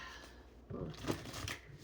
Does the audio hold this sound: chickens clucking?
no